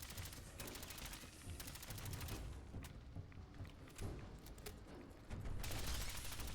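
Gunfire from a Fallout 4 firefight against a creature, sounding as repeated bursts of shots across the whole stretch, with dense rapid volleys at the start and again near the end.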